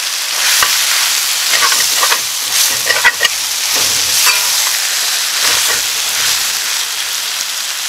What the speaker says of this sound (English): I'll cook it, stirring constantly for about 5 minutes.